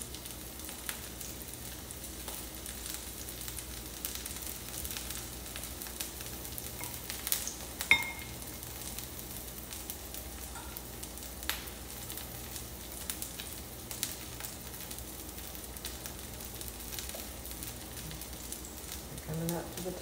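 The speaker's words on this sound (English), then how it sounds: "looks like this grease is hot, so I'm going to start putting these in here" Vidalia onions fry in hot grease with a continuous close sizzle and faint crackle, holding steady throughout with a few small pops, and speech heard at times over it.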